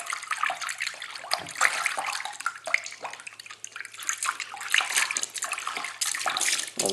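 Warm water mixed with liquid Persil laundry detergent being stirred in a bucket, irregular splashing and sloshing swishes heard close up, with no speech.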